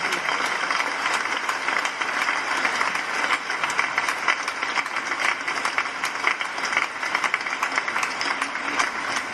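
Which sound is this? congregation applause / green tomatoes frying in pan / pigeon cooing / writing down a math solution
congregation applause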